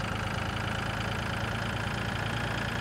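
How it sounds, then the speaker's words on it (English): Tractor engine idling in the Farming Simulator 2013 farming game, a steady, continuous low rumble with an even hum that holds constant throughout, with no talk over it. "With this tractor. I'm just using this tractor."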